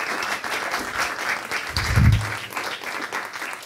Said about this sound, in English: give a big round of applause. Dave Smith, everybody.